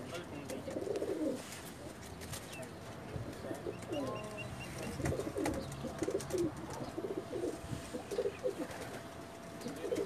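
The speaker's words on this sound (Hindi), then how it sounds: "माशाल्लाह जी बहुत अच्छे कबूतर हैं इनके पास" Soft, repeated pigeon coos roll on throughout from a rooftop loft in Jeddah, Saudi Arabia, layered over a steady background hum and faint chatter, with a few bird chirps and wing flutters.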